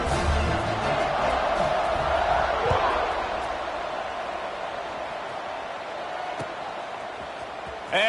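Broad roar of a football stadium crowd at a college game kickoff, steady and loud throughout, with scattered cheers swelling early and easing slightly later.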